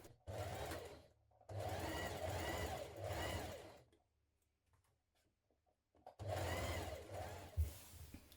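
Sewing machine stitching down gathered tunic fabric, running in three bursts of steady close stitching separated by a near-silent pause.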